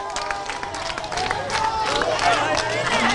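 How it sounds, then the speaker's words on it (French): Crowd at a Mali presidential election event applauding and cheering as candidate Ibrahim Boubacar Keïta's motorcade arrives at a school, steady clapping and excited voices building in loudness, with whistles or shouts mixed in. "Le cortège du président Ibeka qui est très applaudi ici"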